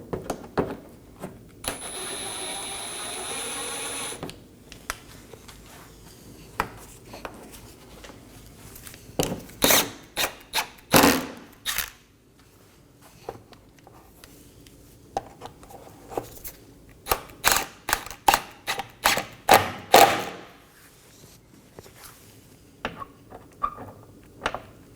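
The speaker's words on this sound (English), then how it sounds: "Now we're going to snug down our 10mm fasteners." A ratchet tightens 10mm bolts on the rear trailing arm cover of a 2018-2024 Toyota Camry. Close, crisp clicking comes in quick irregular bursts with short pauses between them.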